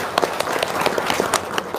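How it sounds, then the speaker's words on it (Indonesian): Applause from a small audience at a religious talk, a short patter of scattered, uneven hand claps, fairly close and brief. "tepuk tangan dong"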